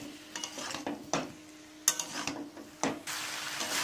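A spoon stirring cauliflower roast with ground cumin and spices frying in a pan with a little water, giving intermittent scraping and clanking strokes over a faint sizzle, close up with no talking.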